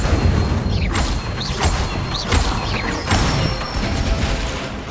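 Incendio fire spell cast in the video game Hogwarts Legacy, several quick whooshing bursts with rising magical swishes and low booms repeating over a few seconds amid dense game effects.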